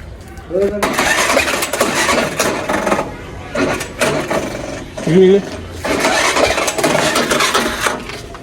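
A vehicle engine cranks, catches and runs in uneven, rising bursts close to the microphone, with voices talking over parts of it.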